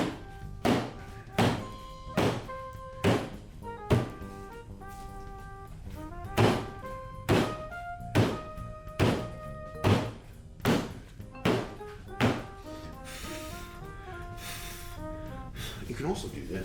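A life-casting mold container is banged on a table again and again in a steady rhythm of hard thuds with rattling, roughly every second, with no talking.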